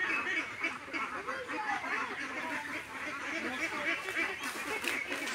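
A large flock of ducks, about two hundred birds at a village pond, quacks continuously in a dense, overlapping chorus, with a few honking calls rising above the steady clamor; no one speaks.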